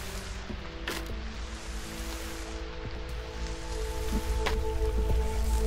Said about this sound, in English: See, the rain sounds way different now.